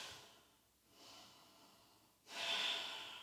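Heavy breathing during a strong, sweat-inducing slow-flow yoga class, with soft airy exhales through the nose and mouth, quiet and close, the last breath the loudest.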